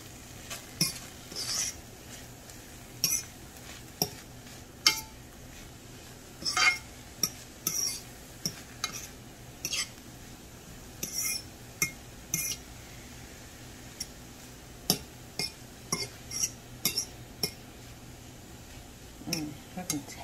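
Spinach is stirred in a pan, with repeated scraping and clinking of a utensil against the pan over a soft sizzle, coming in irregular bursts, and a voice speaks now and then.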